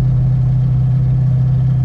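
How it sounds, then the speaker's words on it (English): A 1968 Ford Mustang Bullitt with exhaust cutouts idles close by, a deep steady burbling rumble with a strong low drone and rapid even pulses, loud and with no other sound. "Man, the exhaust on this car is amazing."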